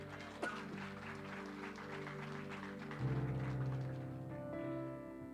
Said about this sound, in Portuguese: Quem entendeu essa palavra, dá um aplauso a ele aí.